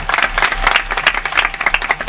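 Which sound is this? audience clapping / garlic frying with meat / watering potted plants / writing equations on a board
audience clapping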